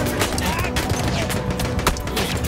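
Battlefield 1 gunfire, on PC at ultra settings, in a dense burst of overlapping shots and rapid automatic fire with sharp cracks. A steady battle din fills the background throughout.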